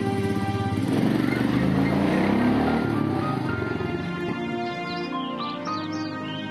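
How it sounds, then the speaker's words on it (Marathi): A motorcycle engine drones steadily and fairly loud, easing off slightly toward the end as the bike pulls away, with faint chirps appearing near the close. "अरे तू मोटरसायकलवर जाणार मुंबईला?"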